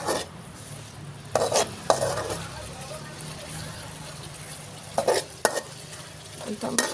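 Fish frying in a pan with ginger and soya beans gives a steady close sizzle, broken by a few sharp clinks and scrapes of stirring, with faint voices in the background.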